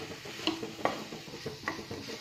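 Spoon scraping and clinking in a pan as mint paste is mixed into cooked tomatoes, a few close, irregular knocks and scrapes over a quiet background.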